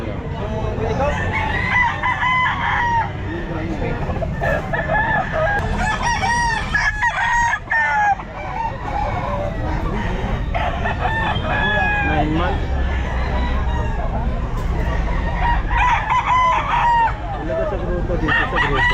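Several roosters crow repeatedly, loud and overlapping, amid a busy din of clucking fowl and occasional voices at an outdoor pet market.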